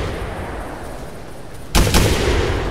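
In theHunter, a shotgun fires twice in quick succession at geese, two close sharp blasts over a steady outdoor wind-and-wildlife ambience.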